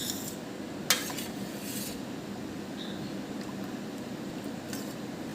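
Grapes being stirred gently in a pot to loosen their skins, soft faint clinks and scrapes of a utensil against the vessel over a quiet background, with one sharper knock early on.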